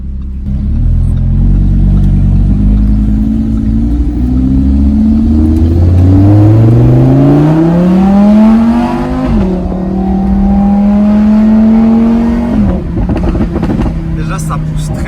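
A Lamborghini Huracan LP 610 in sport mode accelerates hard from a standstill, its engine note rising loudly through the revs, dipping at an upshift, then climbing again before a downshift, heard from inside the car.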